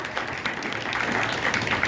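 An audience at an Ohio rockabilly vintage fashion show gives a brief, moderately quiet round of applause, a steady patter of many hands throughout.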